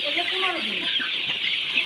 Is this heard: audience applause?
no